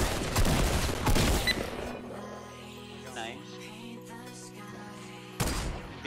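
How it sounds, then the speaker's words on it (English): Bursts of gunfire in Fortnite during a match, loud volleys in the opening seconds and again near the end, with sustained game music and tones filling the quieter middle stretch. "Oh, I'm getting shot at, behind us."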